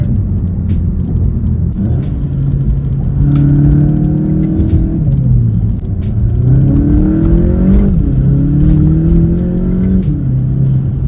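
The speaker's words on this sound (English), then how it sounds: "hear that turbo flutter" A 2020 Volkswagen Golf GTI accelerates through its gears, its turbo engine rising in pitch with each pull and dropping between shifts, loud and close with flutter on the downshifts.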